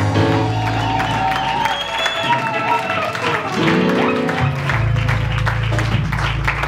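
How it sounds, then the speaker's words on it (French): A church congregation cheers and applauds for Jesus, loud sustained clapping and shouting mixed with voices and music tones, continuing throughout. "Est-ce qu'on peut le faire bien et acclamer Jésus?"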